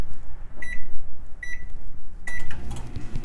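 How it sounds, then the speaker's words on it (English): A microwave oven reheating chicken hums steadily while three short electronic beeps sound at even intervals, then a door or latch clunk closes the sequence. "I'll take this to the microwave and add like 20 seconds to it."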